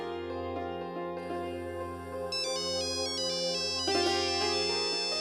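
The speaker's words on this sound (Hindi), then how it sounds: "प्लीज नैतिक, पता नहीं कोई जरूरी फोन तो नहीं?" A melodic phone ringtone plays alone, bright electronic tones in a repeating pattern that grows slightly louder and busier toward the end.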